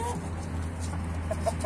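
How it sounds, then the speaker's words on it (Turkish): Garden chickens peck at leftover bread soaked in meat broth, giving a few soft, short clucks toward the end over a low steady background hum. "Tavuklar bunları da yiyor."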